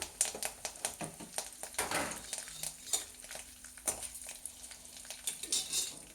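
Curry leaves frying in a hot pan, a continuous crackling sizzle with sharp pops and spatters throughout, close and steady with no voices.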